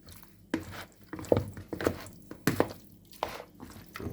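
Pigtails being mixed by hand with Jamaican chilies, heard as moist squelching and slapping pulses in an irregular rhythm, close up and fairly soft, with no talk.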